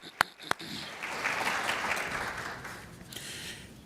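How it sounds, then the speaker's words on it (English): Audience applause at the AAKP annual national patient meeting's general session, a steady wash of clapping that swells after a couple of sharp claps and then gradually thins out. "just give him a round of applause"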